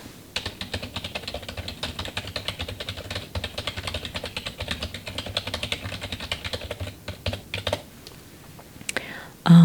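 Steady, soft typing on a computer keyboard in a sci-fi Mars colony supply store roleplay, quick close key clicks in a continuous run that slows and thins out toward the end, ending in a sharper burst.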